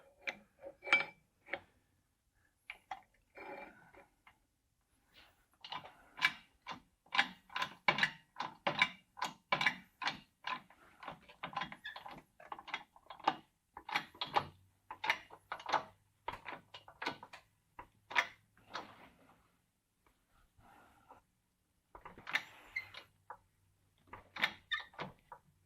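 A welded 7024 test coupon is bent in a bending machine during a weld break test, a long run of faint ticking, creaking clicks and strained metal sounds with a low hum partway through, quiet and close.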